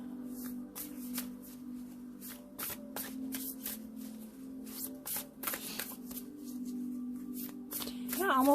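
Tarot cards are shuffled by hand in repeated quick riffling bursts, close and crisp, over a low steady hum, with a voice speaking softly in between and rising toward the end.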